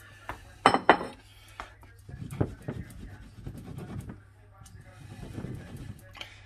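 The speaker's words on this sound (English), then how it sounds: "We get our meatballs into the sauce." Meatballs go into a pot of strained, smooth sauce with a few sharp clinks and clanks of metal and utensils, followed by softer scraping and shuffling sounds, with a voice heard briefly.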